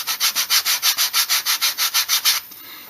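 Holster edges are hand-sanded with 150 grit sandpaper: about fifteen quick, even back-and-forth rasping strokes, close and loud, then a sudden stop into faint room hiss.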